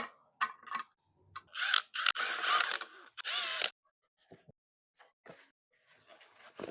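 Timing cover bolts being threaded in by hand on an LS engine during a 1989 Chevy K1500 swap rebuild, heard as quiet intermittent metallic clicks and ratcheting bursts separated by silence, close to the microphone.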